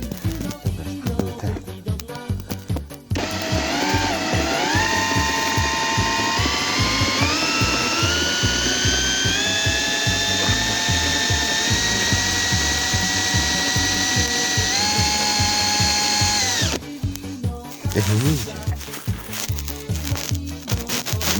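A power drill whines loudly and continuously for about fourteen seconds, its pitch shifting slightly as the bit binds, with rattling mechanical noise before and after, in a garage working on a Fiat 126p.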